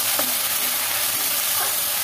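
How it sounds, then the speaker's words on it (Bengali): Onion, ginger and garlic paste frying in a pan, a loud steady sizzle with a couple of brief stirring scrapes. "পেঁয়াজটার সাথে মিশ্রণটা ভালো করে মিশিয়ে একটু ভেজে নিয়েছি"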